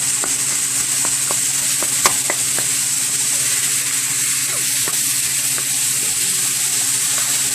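Ground beef sizzles steadily in a hot pan with carrots and peas for an Asian-style dish, with a continuous frying hiss broken by scattered scraping and tapping strokes of a utensil stirring and separating the meat, close and alone.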